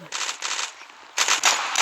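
Bursts of automatic gunfire from the online shooter game Zula, two rapid volleys followed by a louder sustained burst after a short pause, close and dense, with no talk over it.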